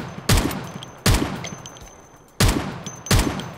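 Gunshots in Project Zomboid, four loud, sharp single reports spaced irregularly about a second apart, each with a short decaying tail.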